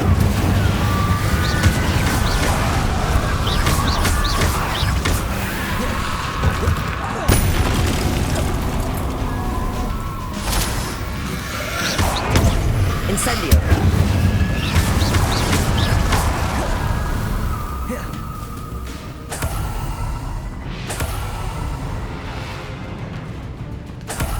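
Casting of the Incendio fire spell in Hogwarts Legacy brings repeated whooshing bursts and booming flames over a dense, loud game soundscape, with no voices.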